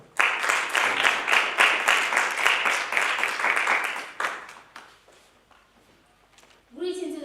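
Audience applause for a speaker at a secondary school road safety debate competition, several seconds of dense clapping that thins out to scattered claps before a voice begins speaking.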